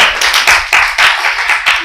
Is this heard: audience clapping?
yes